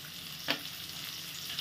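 Onion and green chili frying in a pan with a pinch of salt, a steady broadband sizzle with one brief louder scrape or stir near the middle, no voices.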